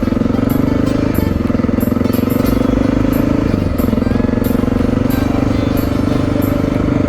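A Honda XR motorcycle engine idles close by, loud and steady with an even thumping rhythm and light mechanical ticking.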